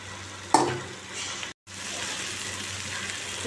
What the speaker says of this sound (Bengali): আমি এর মধ্যে একটু পেঁয়াজ কাঁচা লঙ্কা টমেটো দিলাম একটু কষিয়ে